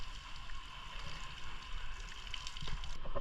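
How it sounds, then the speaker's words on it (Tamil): Rain falls steadily at a scenic bathing spot near Colombo, a dense continuous hiss of drops with faint background murmur and no clear speech. "மழை பெய்யுது"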